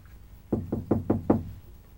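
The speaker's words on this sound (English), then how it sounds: "Then knock louder now" Five quick, evenly spaced knocks land on a hotel room door, each a sharp, fairly faint rap, close to the listener, with quiet room tone between them.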